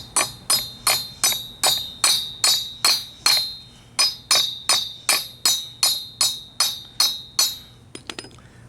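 A hammer strikes metal about seventeen times in a steady, ringing rhythm, tapping a U-joint bearing into the yoke of a Jeep double cardan driveshaft, followed by a few lighter clinks.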